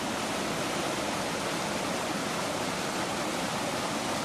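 A river waterfall cascade of several low steps in Ida-Harjumaa, Estonia, gives a steady, loud, dense roar of rushing water with no breaks.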